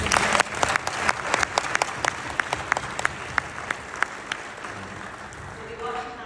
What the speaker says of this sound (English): Let's give Anders a big round of applause.